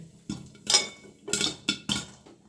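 Corn kernels pop in a covered pan in short, sharp bursts, about five distinct pops spaced irregularly and heard up close, with quiet pauses between them and no voices.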